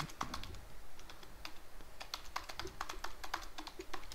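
Password keys tapped on a computer keyboard during a Linux install, a rapid, uneven run of light clicks close to the mic with no talking.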